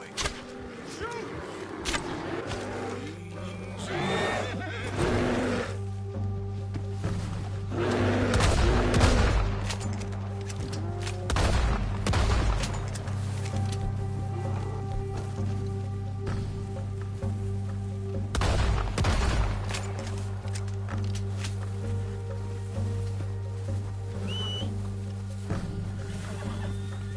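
Several bursts of gunfire aimed at a bear in a video game, sharp shots in clusters spread across the stretch over a steady engine-like drone, with voices talking in between.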